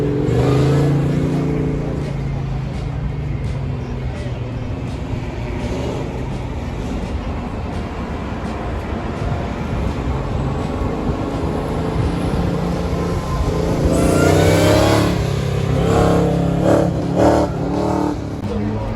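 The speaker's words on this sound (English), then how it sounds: "Check out this 71 Cuda. This had a Hellcat swap in it, I believe." 1971 Plymouth Cuda with a Hellcat engine swap revving at a car show, a loud continuous engine roar with a sharper burst of revs near the end amid outdoor crowd noise.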